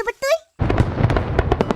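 Fireworks burst in a dense crackling rumble at a fireworks festival in Puncak, following a short stretch of voices. The explosions run continuously and loud, with sharp pops layered over a low booming roar.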